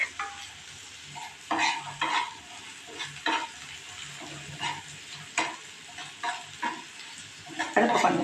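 Onions with ginger-garlic paste frying in a pan for a cabbage and egg dish, a constant sizzle broken by repeated close spatula scrapes and stirs in an uneven rhythm, with brief clinks of utensil against pan.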